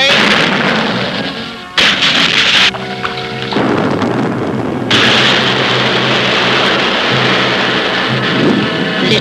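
A depth charge fired from an icebreaker ship detonates in a huge booming explosion, followed by sustained rumbling roar and crashing surf-like noise that continues loudly throughout.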